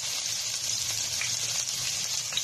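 Garlic, onion and ginger sizzle in hot cooking oil in a pan, a steady soft crackle of frying that continues alone throughout.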